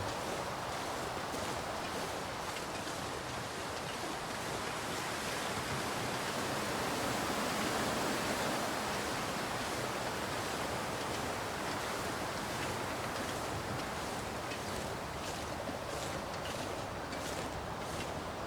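Steady wind roars in The Long Dark video game as a broad, constant hiss for the whole stretch, even and fairly loud, with no voices.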